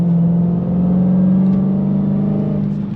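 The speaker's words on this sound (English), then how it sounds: "that's just a pure V8 muscle car sound with the supercharger whine" A 2023 Dodge Challenger Hellcat's supercharged V8 holds a loud, steady rev, its deep engine drone topped by a sustained supercharger whine and recorded close, with no talk over it.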